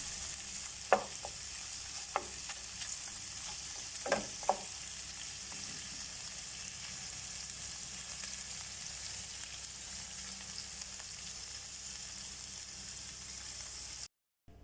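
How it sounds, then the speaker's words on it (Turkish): Vegetables sauté in a pot with soft, steady sizzling, a few sharp scraping clinks of a utensil against the pot early on, then continuous frying hiss. "Şimdi güzelce bir kavuracağım."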